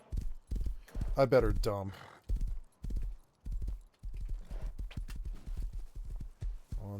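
Horse hooves clip-clop in a video game, a rhythmic run of close, loud hoof strikes with a brief whinny, while a person talks over the gameplay.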